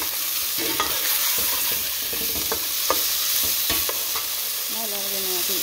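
Garlic, tomato and mung beans sauté in a hot pan, a steady close sizzle broken by scattered scraping stirs, with a higher hissing tone rising near the end.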